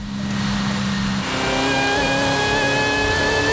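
A Dodge Charger Hellcat Widebody in Forza Horizon revs hard and loud, its engine note climbing steadily in a sustained roar that holds high through the whole stretch.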